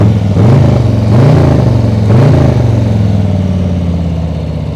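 A Harley-Davidson 117 Breakout motorcycle engine, muted in tone, revs three times in quick succession from a deep idle, each blip rising and settling back, loud and close with no talking.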